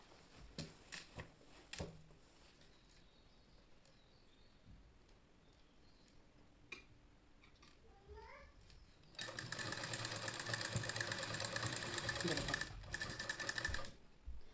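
A sewing machine stitches fabric while an old saree is being remade into a kurti, running loud and steady for about five seconds near the end after quieter handling sounds and taps.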